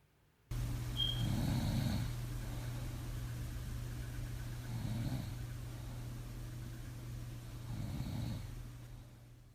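Snoring captured by a bedside sleep-tracking phone app, three slow rhythmic snores spaced several seconds apart over a steady low hum, with no talking.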